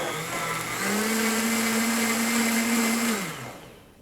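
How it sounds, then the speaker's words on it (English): A blender whirs loud and close for a few seconds, blending a green smoothie made from three ingredients, with the motor pitch rising as it starts and then winding down. "we're going to just let the blender blend for about 5 seconds"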